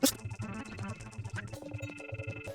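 A telephone busy signal woven into video game music from The Lost Pilots, steady paired beeping tones sitting faintly among the melody and beats.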